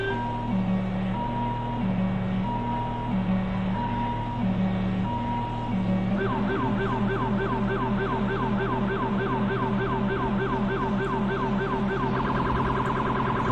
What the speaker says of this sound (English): Then I have this changer that automatically changes the siren sounds,